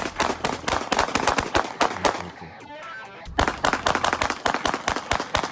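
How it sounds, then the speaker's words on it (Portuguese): Dozens of gunshots in Porto Alegre crack out in rapid, sharp bursts, a dense volley that pauses briefly before another fast run of shots, sounding moderately close and recorded with some distortion. "Mais de 50 tiros"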